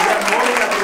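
Audience applause at an award ceremony, a dense, steady wash of clapping lasting under a second with no pauses.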